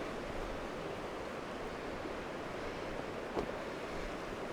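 Steady wind on the Gallatin River Trail in Montana on a sunny morning, a broad continuous rush with microphone buffeting, holding at an even level for several seconds with one brief bump near the end.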